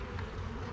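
A dense, steady buzz of many honeybees humming together at close range at a hive, continuous throughout.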